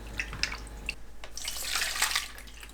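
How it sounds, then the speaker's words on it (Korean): Thinly sliced potatoes are rinsed in water to wash off the starch, with close, irregular splashing and sloshing throughout the short stretch. "감자를 슬라이서로 얇게 밀어줍니다. 물에 가볍게 한번 헹궈서 전분을 씻어주세요."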